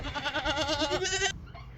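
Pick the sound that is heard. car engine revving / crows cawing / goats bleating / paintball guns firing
goats bleating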